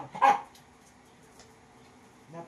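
A dog gives a single sharp bark near the start, followed by quieter whimpering or yipping and a soft noise at the end, with no talk over it.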